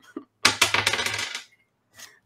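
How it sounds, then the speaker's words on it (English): Dice tumbling across a table during a tabletop roleplaying game, a burst of rapid clattering rattles lasting under a second that settles, followed by a brief faint knock. "Do you have more dice, Kelly?"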